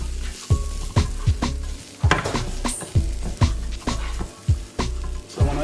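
Breadcrumbs sizzle in olive oil in a pan as a spoon stirs them, with regular scraping strokes against the pan roughly every half second over a steady frying hiss, close and alone.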